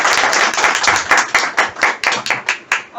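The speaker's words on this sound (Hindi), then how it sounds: "एक ताली हो जाए सबके लिए" A small audience at an herbal store gathering claps together, close and loud, the claps starting as a brisk patter and settling into a slower, more spaced rhythm.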